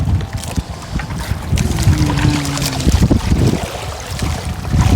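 Wind gusting over a small boat out on open water, a steady rushing buffet across the microphone with splashing and a faint engine drone beneath.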